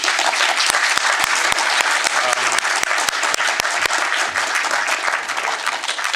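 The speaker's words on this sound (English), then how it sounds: "So we will thank both of you again with a round of applause." Sustained audience applause closing a seminar talk on Ukraine, dense clapping from a roomful of people holding steady for several seconds before easing slightly.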